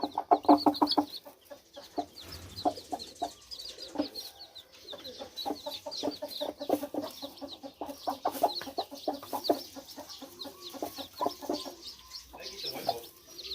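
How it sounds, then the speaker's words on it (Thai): A mother hen clucks among her young chicks in a small enclosure, with repeated soft clucks and rapid, high chick peeping in a busy, continuous rhythm nearby. "โอเคเราก็จะปล่อยให้แม่ไก่ เลี้ยงลูกไก่ไปนะครับ"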